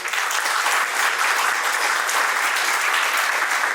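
An audience at a seminar claps steadily and loudly, a sustained wash of applause that holds at the same level throughout.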